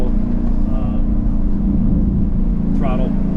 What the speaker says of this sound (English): I put it in track mode. That opens the exhaust all the way.